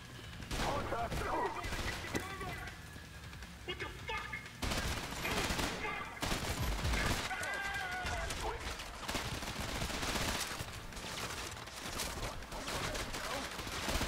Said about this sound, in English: Minigun.